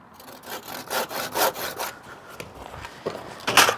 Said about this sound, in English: I'm going to put a little saw cut in here to take the end of my tape